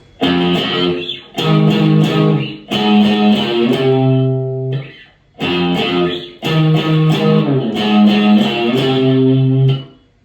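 An electric guitar plays a melodic riff of single notes with slides on one string, starting on the low E, in two repeated phrases separated by a short pause, loud and close.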